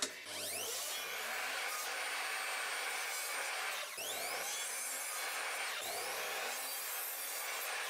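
A miter saw whines through wooden slats in three successive cuts, each with a rising spin-up and a harsh, loud cutting rasp, close by.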